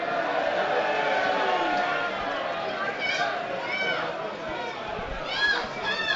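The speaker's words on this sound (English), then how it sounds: "Bit of a cheer and a jeer." A crowd at a National League football match between Boston United and Woking makes a muddled mix of cheers and jeers at moderate distance, with someone talking over the noise.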